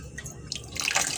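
Running tap water rinsing a large cleaned fish, a brief close splash and trickle that grows brighter and louder toward the end, with no talking.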